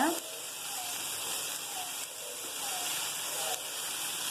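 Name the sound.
paneer fried rice simmering lightly in pan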